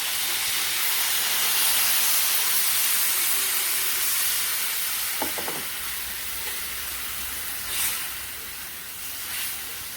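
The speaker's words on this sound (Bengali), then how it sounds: "আমি হালকা একটু ভাজি করছি" Vegetables lightly frying in a pan at home, a steady, fairly loud sizzle and hiss running throughout, with a few small pops and crackles partway through.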